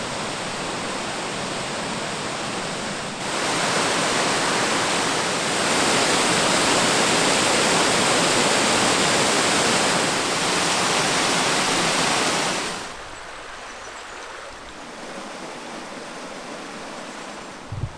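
The Witch's Cauldron waterfall in Victoria Park, Truro, roars as a steady, loud broadband rush of falling water that swells partway through, then drops to a softer, more distant wash near the end.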